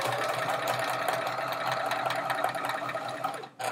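A close sewing machine whirs steadily while stitching quilt seams for chevron rows, with a brief pause near the end before the motor picks up again.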